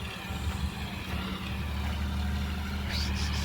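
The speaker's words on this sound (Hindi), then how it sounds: "खेत में लगे हैं दो ट्रैक्टर, एक शायद जुताई कर रहा है" Tractor ploughing a farm field, a steady low engine drone with rough rumble, fairly close and continuous, with a faint voice briefly audible near the end.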